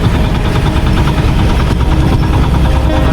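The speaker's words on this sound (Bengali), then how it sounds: "তার মাঝখান থেকে আমাদের ভটভটি ভ্যান" A motorised bhotbhoti van rolls along a concrete road, its engine giving a steady, loud, rattling drone with a vibrating knock that runs throughout without pause.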